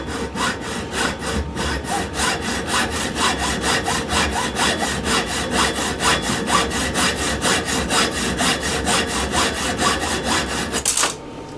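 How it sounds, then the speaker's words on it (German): Steady rhythmic strokes of a hand saw cutting through wood for a spotlight mount, dozens of back-and-forth rasps close to the microphone, ending abruptly. "Jetzt säge ich rüber."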